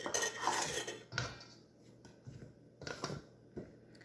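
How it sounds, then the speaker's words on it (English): A spatula scrapes and clinks in a bowl while flour and sugar are mixed as dry ingredients for chapati, giving a few brief clattering bursts close by with quiet pauses between them. "I'm going to mix it up. Let me use this spatula."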